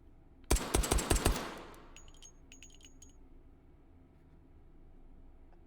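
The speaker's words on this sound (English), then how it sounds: "Only 5 shots, but perfect 10 on the AMag 50 Action Express with stock and suppressor" Five quick suppressed shots from an AMag .50 Action Express pistol fitted with a stock ring out in a tight burst in the VR shooting game H3VR, followed by faint metallic clinks and a quiet tail.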